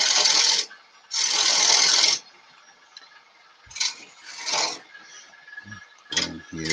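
A gouge cutting wood on a woodturning lathe while shaping a petaled flower, loud raspy scraping bursts of about a second separated by quieter gaps, then shorter ticking and rubbing contacts, close and without speech.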